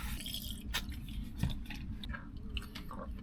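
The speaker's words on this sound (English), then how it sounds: "so you can hear me panting and chewing in high fidelity audio." A person chewing food close to a DJI Mic 2 wireless microphone, with wet, squishy mouth clicks and bites over a low rumbling background, intermittent and near.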